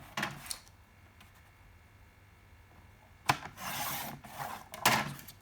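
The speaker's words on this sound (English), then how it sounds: "Let's get the trimmer." A paper trimmer slicing a sheet for a craft folio, a couple of brief dry rasps at first, then after a pause a louder sliding cut and a final sharp swipe, close by.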